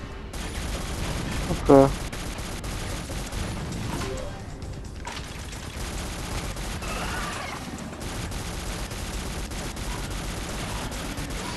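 Gunfire from a powerful secondary weapon in the shooter game Shadowgun Legends, with a loud sharp burst of shots early on, followed by quieter game noise and someone speaking briefly.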